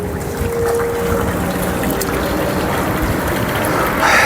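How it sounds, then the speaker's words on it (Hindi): Water running steadily from a heavy pipe onto a garden in Saudi Arabia, a continuous close rushing and trickling wash with no voices. "अभी पानी ज़्यादा है तो इस वजह से यहाँ पर पानी लगा रहे हैं जो ज़्यादा है"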